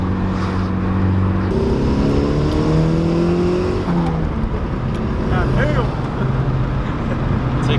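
A Nissan 240SX on new coilovers pulls away, its engine revving up through a couple of gear changes, loud and close from inside the car, while people talk over it.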